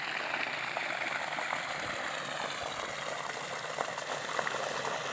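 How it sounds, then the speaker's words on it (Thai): Canal water flowing behind Pa Sak dam in Thailand, a steady soft rushing and bubbling wash that holds evenly throughout with no voices. "สายน้ำในลำคลองครับผม ก็ไหลไปเรื่อยๆ"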